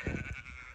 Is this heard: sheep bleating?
yes